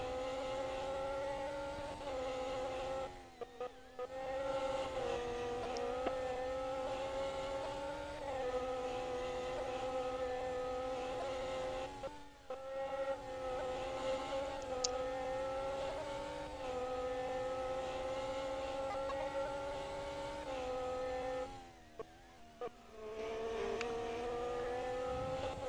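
The onboard engine of an F1 race car in a racing video game screams at a steady high pitch, with brief drops and lifts between corners as it accelerates and shifts, loud and continuous throughout.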